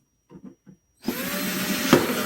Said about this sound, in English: then you can just drill a few holes in the bottom.